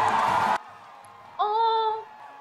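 A single character's voice rises in a short sustained whoop of cheering, loud and near, following a brief burst of noisy commotion and a moment of near silence, in a film set in the 1990s.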